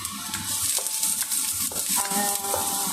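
Garlic sizzles in hot oil in a pan on the stove, a steady bright hiss with small pops and a few light scrapes of a spatula, close and continuous with no talking.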